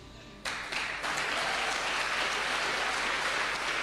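A studio audience breaks into broad, sustained applause for a political line about a government nerve centre, rising suddenly and holding steady at a moderate level after a quiet start.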